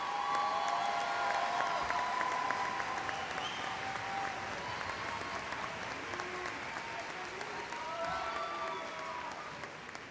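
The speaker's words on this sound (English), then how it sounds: "Ladies and gentlemen, a round of applause for the baccalaureate graduates" Sustained audience applause for business school graduates at a college commencement ceremony, steady and dense throughout, with faint scattered cheering in a large hall.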